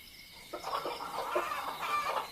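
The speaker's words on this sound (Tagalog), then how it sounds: "Iingay naman ng mga manok mo" Several chickens cluck in a rural barnyard at night, a cluster of short, throaty calls rising and falling in quick irregular bursts, moderately close and with no voices over them.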